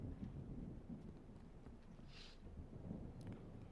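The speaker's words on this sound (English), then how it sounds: "How has the storm not destroyed this village yet?" Steady rumbling thunder and rain from a storm in the horror game Static Dread, a continuous low roar with a brief brighter crackle midway.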